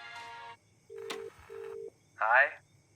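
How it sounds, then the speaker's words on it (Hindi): Telephone call being dialed in a dubbed Hindi film scene: a short burst of tones, then two steady ringback tones with a click between them, followed by a brief voice burst, all fairly quiet and close. "मैं रायन को कॉल कर रही हूँ, शायद उसे कुछ पता हो।"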